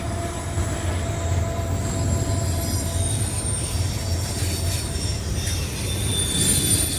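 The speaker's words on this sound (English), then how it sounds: "CSX IO25 as it heads south from the north end of Kelly, Kentucky" CSX IO25 freight train rolling south on the main line at the north end of Kelly, Kentucky, a steady loud rumble of railcars with wheel squeal and high metallic tones throughout, no voices.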